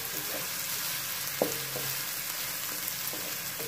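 Onions softening in a pan over medium heat for bhindi masala give a steady, close sizzle, broken by a sharp utensil clink and a few light stirring scrapes.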